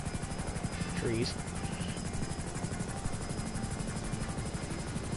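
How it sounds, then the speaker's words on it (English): An attack helicopter in GTA 5 drones and thumps steadily and loudly all the way through, while someone talks briefly over the rotor noise. "this thing is more of a air support attack helicopter"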